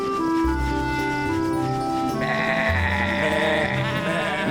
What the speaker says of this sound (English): Honk is teaching Woofy how to look after the sheep